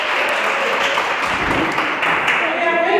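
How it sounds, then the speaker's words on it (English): An audience at a college lecture on early childhood development claps in a dense, steady wash of applause, with voices mixed in. "Let's clap hands for her."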